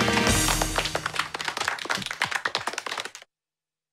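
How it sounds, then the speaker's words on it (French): Cartoon applause at a fruit festival for the valley babies who painted a mural: about three seconds of close, crisp clapping that thins out and cuts to silence. "Applaudissez les bébés de la vallée."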